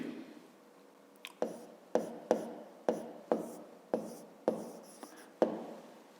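Pen marks scratch onto paper while a math exercise is worked out, about a dozen short, crisp strokes and taps coming in an uneven rhythm, close and quiet, with no voices.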